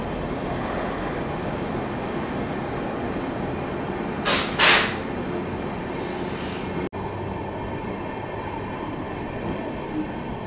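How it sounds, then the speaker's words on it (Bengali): Sealdah–Balurghat Express running on a parallel track near Naihati, heard from aboard a moving train as a steady, loud rumble of wheels and carriages with a brief sharp hiss midway and a single click later. "ক্রস করছি আমরা নৈহাটি, প্যারালালে আমাদের শিয়ালদা বালুরঘাট এক্সপ্রেস।"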